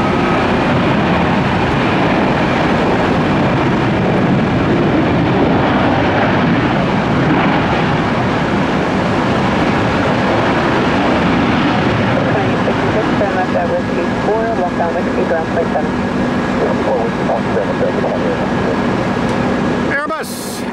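An Airbus airliner passes over Tampa International Airport as a loud, steady broadband roar that fills the whole stretch with a faint whine on top, fading slightly near the end.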